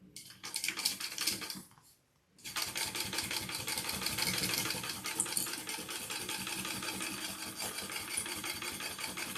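A sewing machine runs steadily, stitching a second row along backpack straps, with a brief pause near the start before the dense, rapid mechanical whirr resumes and continues close and loud.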